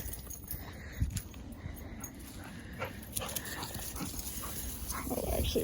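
A puppy whimpers faintly and intermittently amid rustling and panting during play with an older dog, all quiet and close.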